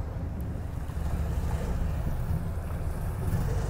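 A 115-foot Riva yacht approaches its dock with a steady low engine rumble, mixed with wind and water noise and heard from a moderate distance, with no talking.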